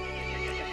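Single horse whinny in the video game Resident Evil 8, loud and close, a brief wavering neigh with no talking.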